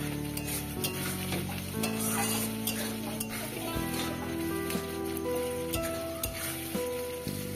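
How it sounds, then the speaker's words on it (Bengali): Spiced masala with chopped tomato sautéing for a chicken dish, a loud steady sizzle with repeated scraping stirs of a spatula in the pan, close and continuous, no one speaking. "বেশ ভালো করে মশলাটাকে কষিয়ে নেব।"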